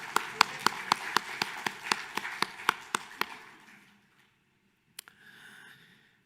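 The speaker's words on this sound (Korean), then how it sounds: "하나님께 구원해 주심을 감사하며 영광의 박수 올려드립니다." A church congregation at a Sunday worship service applauds in unison, with crisp, evenly spaced claps repeating rapidly for about three seconds before fading into a hushed room and a few faint stray sounds.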